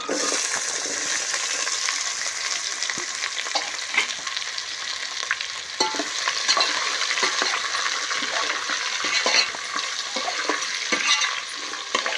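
Chopped green chillies sizzle steadily in hot oil in a pan for a head-meat dum biryani, a continuous broadband crackle with occasional stirring clinks and scrapes, close and fairly loud with no talk.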